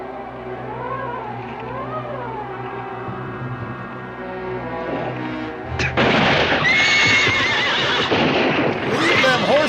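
Horses whinny in a loud outdoor western scene, first in wavering calls, then a burst of hooves clattering and a further shrill neigh close by, all over steady rumbling background noise.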